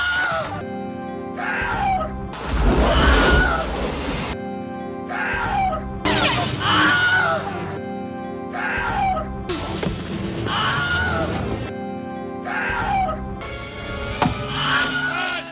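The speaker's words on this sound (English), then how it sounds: "there is a lot of screaming in this movie" Screams from the horror movie Circus of the Dead come in repeated loud, harsh bursts, broken up by short quiet gaps and noisy crashing sounds through a chaotic, tense scene.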